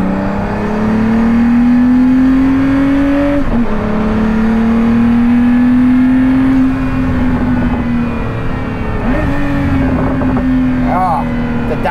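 A Pagani Huayra Roadster BC engine revs loud and close, pitch rising and dropping through gear changes with sharp downshift blips, under brief speech.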